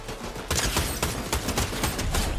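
Rapid gunfire bursts from a Fortnite match, dense overlapping shots crackling loudly and continuously for a couple of seconds with no talk over them.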